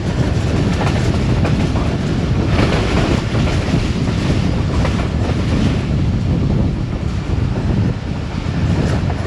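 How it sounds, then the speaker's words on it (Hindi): A train passes through Bakrila railway station on the Rawalpindi to Lalamusa line, a loud, steady rumble with rhythmic wheel clatter that continues without a break. "ट्रेन हमारी इस वक्त बकरीला रेलवे स्टेशन से पास थ्रू कर रही है"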